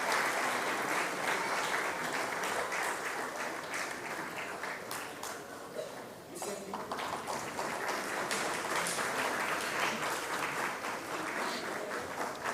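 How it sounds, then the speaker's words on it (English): An audience at a 77th Independence Day 2023 ceremony applauds. Loud, dense clapping runs for about twelve seconds, dips briefly near the middle and then swells again. "A big round of applause, Mr. Arun."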